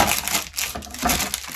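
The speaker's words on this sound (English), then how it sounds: "And I'm going to go ahead and crush up some nuts." Nuts are crushed between sheets of parchment paper with the bottom of a glass, giving a close, continuous gritty crunching and crinkling with no talk.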